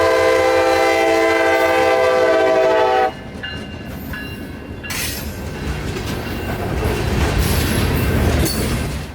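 A freight train with rock hoppers passes a road crossing, opening with a loud sustained horn blast, then a steady close rumble and clatter of cars rolling by.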